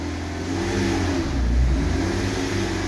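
A car with a slipping clutch is held on the brake in fourth gear with the clutch let out while the throttle is pressed; the engine drones in a loud, strained, sustained rev that swells slightly and never pulls away.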